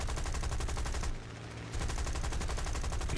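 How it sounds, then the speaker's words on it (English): Aircraft machine guns in War Thunder fire in a loud, steady rapid stream, pausing briefly near the middle of the burst before resuming at full intensity. "I still have my machine guns."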